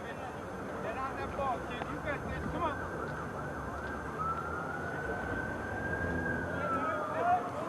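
An emergency vehicle siren wails steadily in the distance near a high school baseball game between Central and Londonderry, a long rising and falling tone running throughout under ambient field noise and a commentator's voice.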